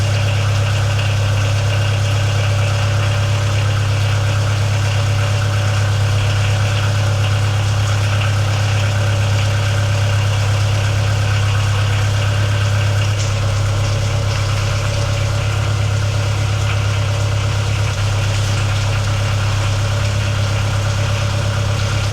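A boat engine idles steadily and unevenly, running rough, a low rumbling drone with a slightly rough, knocking texture, running continuously and close by.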